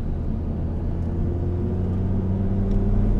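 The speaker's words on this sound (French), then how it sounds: "Et là, vous accélérez maintenant." A Lamborghini Superleggera engine accelerating, a loud steady low rumble that swells slightly as it goes, heard from inside or close by with no voices.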